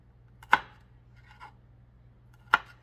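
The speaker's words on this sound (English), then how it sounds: "I'm just showing you, you know, how I'm dicing mine" A knife dices vegetables for homemade yellow rice on a cutting board, with two sharp, distinct chops about two seconds apart and a faint softer tap between them, close in an otherwise quiet kitchen.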